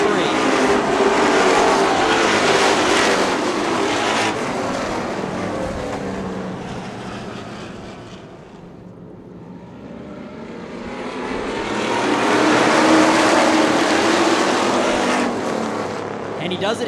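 Superstreet race cars lap a racetrack, their loud engine roar swelling, fading as the field passes, then building again into a sustained howl, with race commentary underneath.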